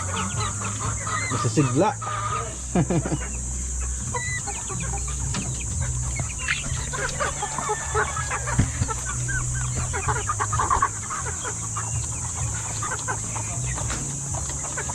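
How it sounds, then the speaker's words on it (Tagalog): Month-old chicks on a small Filipino poultry farm cluck and peep in scattered bursts across a steady farmyard background, with a rooster-like call now and then and a brief spoken word. "Yung mga 1 month old na chikiting natin."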